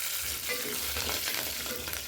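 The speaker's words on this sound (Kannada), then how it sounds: "ಎಣ್ಣೆಯಲ್ಲಿ ಚೆನ್ನಾಗಿ ಫ್ರೈ ಮಾಡ್ಕೊಳ್ಳೋಣ." Green chillies fry in hot oil with cashews for a simple onion rice, giving a steady, close, broadband sizzle with soft stirring scrapes throughout and no talking.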